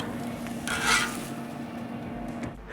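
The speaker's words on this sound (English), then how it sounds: "that beef smells delicious on that griddle" Beef steak sizzling on a hot griddle, a steady low hiss with a brief scraping stir partway through, fairly quiet and with no talking.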